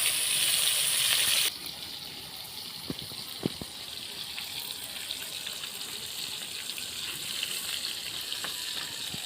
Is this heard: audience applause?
no